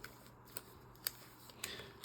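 A Pokémon trading card booster pack, bought as part of a half display from a tobacconist, is torn open by hand, giving a few quiet, brief crinkling rips and rustles in a hushed room.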